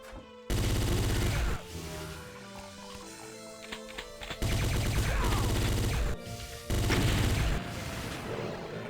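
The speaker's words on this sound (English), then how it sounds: "I'm just shooting barrels for the fun of it" Gunfire from shooting explosive barrels in a Doom mod video game, bursts of dense booming shots and crashes in three loud blocks, separated by quieter stretches of game sound.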